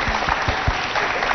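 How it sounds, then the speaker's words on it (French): An audience claps for the director of the Al Mouna centre at a prize ceremony, a short, close burst of applause with a few distinct sharp claps near the start. "Applaudissez pour la directrice."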